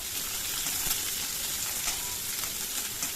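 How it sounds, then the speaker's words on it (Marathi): Chopped onion fries in hot oil in a pan for a pumpkin curry, giving a loud, continuous close sizzle with no voices. "कांदा सांगा ब्राऊन कलर होतपर्यंत आपल्याला भाजून घ्यायचा तेलामध्ये परतून घ्यायचं"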